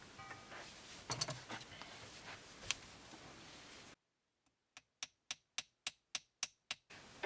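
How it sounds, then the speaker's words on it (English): A 24k gold ring is hammered on an anvil, producing a run of about nine sharp, evenly spaced metallic strikes that follow a few seconds of muffled handling and rustling noise. "I'm gonna hit it on the anvil to see if it'll widen out more"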